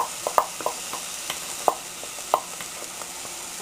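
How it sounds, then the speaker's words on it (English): Tomato sauce with garlic and spices is stirred in a warm pan, a steady soft sizzle broken by sharp utensil scrapes and clinks against the metal at irregular intervals. "Stir this around, make sure that you're not burning the garlic or the spices in the bottom of the pan"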